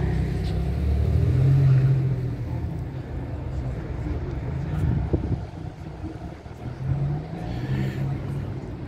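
A Bentley car drives past on a street in Monaco, a loud low engine rumble that swells and fades over several seconds with wind noise on the microphone and brief bits of talk.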